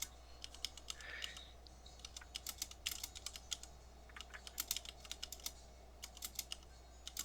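Keys clatter on a computer keyboard during a World of Warcraft raid session, a steady run of close, crisp taps in irregular bursts over a faint low hum, with no talking.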